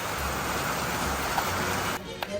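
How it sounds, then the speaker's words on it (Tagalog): Heavy rain pouring in Ilocos, a dense, continuous hiss of falling water at steady loudness, with a slight break near the end, no voices. "Ang lakas ng ulan"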